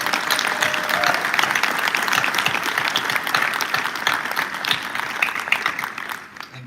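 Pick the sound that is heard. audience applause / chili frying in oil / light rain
audience applause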